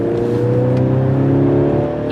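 A 2022 Mercedes-Benz C 300 4Matic sedan with a 2-liter twin-scroll turbo engine accelerates. It makes a steady, rising engine drone heard from inside the cabin, with no talk over it.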